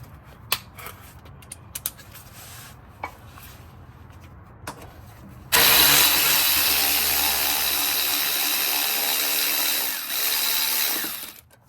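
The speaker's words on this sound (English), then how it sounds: "Go ahead and get a 3-inch extension. I guess that should work. Put it on your ratchet." A ratchet fitted with a 3-inch extension works loose an oil pan bolt on a Dodge Scat Pack or Hellcat V8. Sparse faint clicks come first, then a loud, sustained grinding rattle lasts about six seconds.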